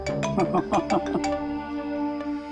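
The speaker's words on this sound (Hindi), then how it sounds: "आ गया CID वालों का फोन।" A mobile phone rings with a short melodic ringtone of rapid repeated notes that then fades into a sustained tone, clear and close, with no talking over it.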